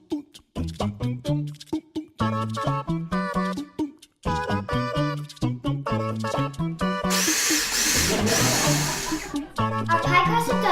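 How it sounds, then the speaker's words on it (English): Short bursts from a food processor pulse ginger snaps into crumbs, each stop-start whir separated by brief gaps, then one longer, rougher grinding run near the end. The sound is loud and close, with no talking. "All you have to do is pulse your ginger snaps until they're crumbs"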